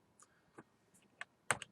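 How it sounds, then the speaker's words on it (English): Down arrow key pressed on a computer keyboard, a handful of sharp, close plastic clicks spaced irregularly across a quiet background, the last one loudest. "just by hitting the down arrow on the keyboard"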